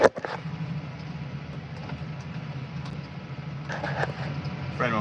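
A farm vehicle engine running at a steady low drone inside the cab after a downshift while spraying, with a few faint clunks and rattles over the constant hum.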